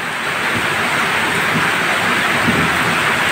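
Heavy rain pours steadily over parched ground, a dense loud hiss with a low rumble of thunder rolling underneath throughout.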